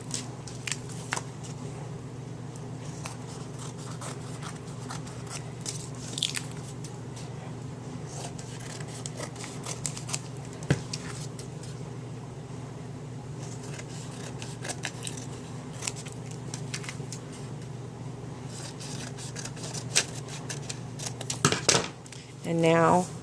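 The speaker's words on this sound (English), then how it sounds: "I attached the Tyvek, and now I'm going to cut each" Scissors cut Tyvek strips for a handmade mini album: faint, repeated snipping and paper rustle close by over a low steady background hum, with a louder rustle near the end.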